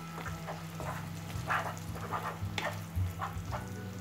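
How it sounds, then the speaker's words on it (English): Masala papad frying in a pan, a soft sizzle under repeated quick scraping and stirring strokes close by, fairly quiet, with no talking. "And I will again put a pinch of salt and will give stir like this way."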